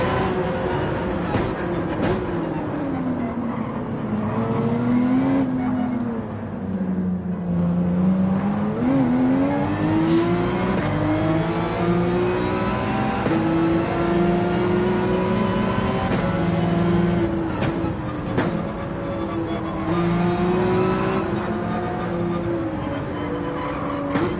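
Race car engine in a racing video game, nitrous boost engaged, droning loud and continuous with rising and falling revs over the whole stretch, no voices over it.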